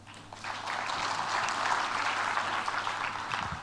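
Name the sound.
audience applause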